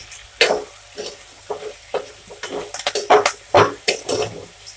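A mushroom and soya chunk fry being stirred in a pan, with a spoon scraping and clinking against the metal in irregular bursts and a faint sizzle beneath.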